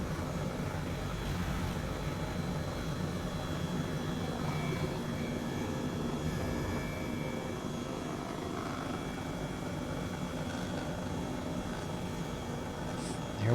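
An aircraft engine drones steadily in Microsoft Flight Simulator 2020 as the plane gathers speed on takeoff, a continuous moderately loud hum and whine with faint background noise throughout.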